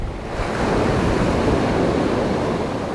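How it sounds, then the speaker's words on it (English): Wind rushes steadily across a microphone on a bass-fishing shore, a dense, loud roar without pauses that may carry surf or waves beneath it. "the wind's coming over my shoulders"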